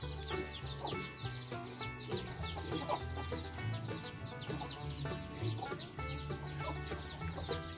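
Free-range chickens cluck close by in a small backyard flock, with steady overlapping calls and short squawks going on over a busy farmyard background.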